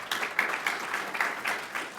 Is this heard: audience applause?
yes